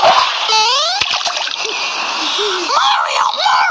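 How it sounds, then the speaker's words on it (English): Cartoon splash as Princess Peach is thrown into water in a Mario parody, a bright watery burst amid squeaky, pitch-sliding cartoon effects and voices. "Why'd you throw Peach in the water?"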